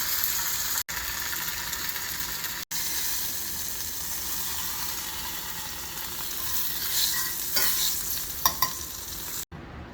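Day lily buds saute in a hot pan with butter and oil, giving a loud, steady sizzle and hiss close up, with a few brief stirring scrapes near the end.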